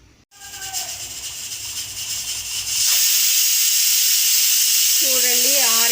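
Pressure cooker cooking dal releasing a loud, steady steam whistle that surges to a sustained hiss in the second half, with a brief tonal squeal near the end.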